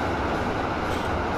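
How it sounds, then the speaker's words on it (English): Train passing in the farming video game Farming Simulator 17, a loud, continuous rolling rumble with broad rushing noise, heard up close and alone for the brief moment. "Oh no, a train."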